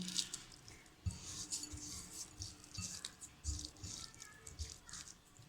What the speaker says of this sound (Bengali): এখন আমি পেঁয়াজ আর শুকনো মরিচ আর লবণটাকে ভালোভাবে মিশিয়ে নেব